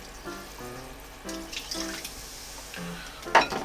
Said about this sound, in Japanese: じゃあ炭酸水を 70cc 入れます。